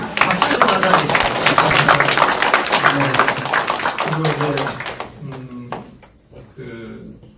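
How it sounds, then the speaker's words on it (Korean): Audience applause at a talk with an author, dense clapping that trails off into a few scattered claps, with a voice speaking over it throughout. "박수로 받아주십시오."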